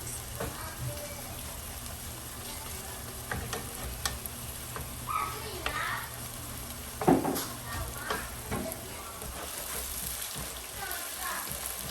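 Onions fry in a wide non-stick skillet with a steady soft sizzle, broken by occasional scraping and clinking as they are stirred, moderately close.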